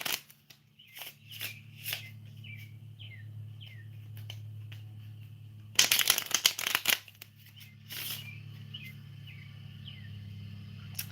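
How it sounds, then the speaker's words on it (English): Tarot cards being shuffled in quick papery riffles, with a dense loud burst in the middle, and birds chirping faintly in the background over a low hum. "And I shuffle those two packs together."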